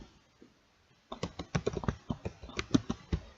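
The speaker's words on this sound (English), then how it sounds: "I could type in climate change," Typing on a computer keyboard in a quick, uneven run of close, crisp key clicks, starting after a second of near silence, with no talk.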